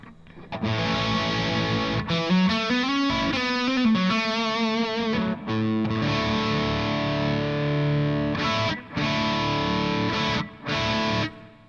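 Electric guitar through a Marshall Plexi-style overdrive pedal with the tone turned down for less treble plays sustained, distorted chords and riffs, loud and continuous with a few brief pauses near the end.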